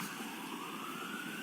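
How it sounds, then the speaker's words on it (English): Emergency vehicle sirens pass outside a courtroom, a faint, steady wail with a slowly rising pitch, heard alone without voices. "if I could just hold on 1 minute while the sirens pass."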